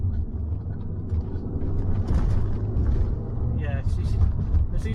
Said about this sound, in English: there seems to be a slight hesitation on the turbo, not all the time, every now and then, but it seems to want to go